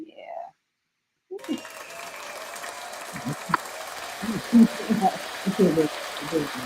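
Audience clapping and cheering on a late-night live podcast, with several bursts of applause and a few whoops rising after a brief pause and continuing steadily.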